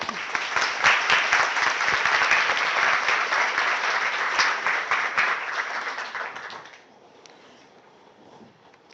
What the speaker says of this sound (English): Please give her a round of applause, Barbara.